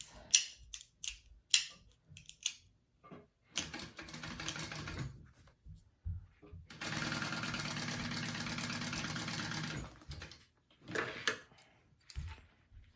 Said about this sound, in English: we're going to sew the two panels at a 3/8 inch seam allowance